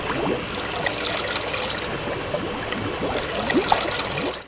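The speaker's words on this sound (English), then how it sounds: "I need to refill the water tank" Water trickles and splashes steadily into a LEGO water tanker's tank filled from a pond, a continuous close pouring stream with small gurgles and drips throughout.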